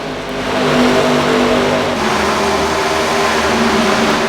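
Race cars in an iRacing ARCA Menards Series race at Michigan roar steadily with layered engine drones, several cars close together holding a loud, continuous pitch throughout.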